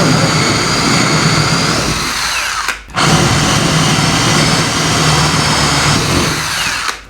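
An electric drill bores a hole, a loud, steady whine close by that cuts out briefly near the three-second mark and then resumes at full strength, running alone without voices.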